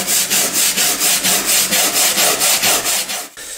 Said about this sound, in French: je vais le passer à la brosse métallique pour ouvrir les pores du chêne au maximum